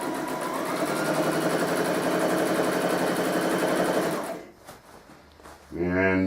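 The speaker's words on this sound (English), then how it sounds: "So you can watch me sew this last piece here." A sewing machine stitches a quilt piece with a fast, steady mechanical whir for about four seconds before it stops, followed by a few soft clicks and a brief spoken voice near the end.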